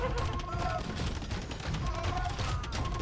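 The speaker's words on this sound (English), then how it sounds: "5 bombard cannons are already firing" Bombard cannons firing in Age of Empires 2, a dense, steady clatter of battle with rumbling impacts and mechanical noise throughout, loud and continuous with no clear gaps.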